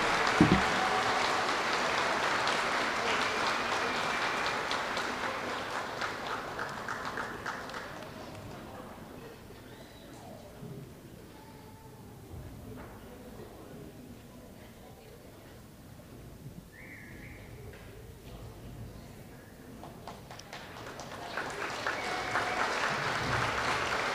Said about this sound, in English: One more round of applause for our second grade students.